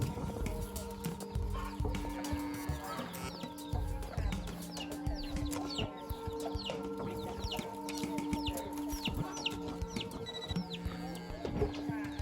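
Chickens cluck and call repeatedly in a village without electricity, close and fairly loud, with overlapping clucks and squawks over a steady background.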